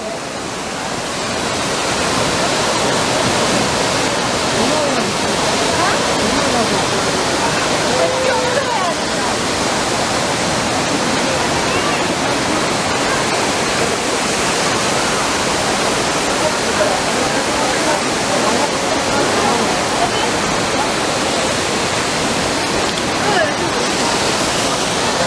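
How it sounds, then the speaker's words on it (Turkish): Düden waterfall in Kepez, Antalya, roars as a steady, loud broadband rush of falling water that fills the whole stretch without pause; no voices are heard. "şu anda Antalya'da Güben Şelalesi'nin başlangıç kaynağının olduğu başlangıç noktasına geldik"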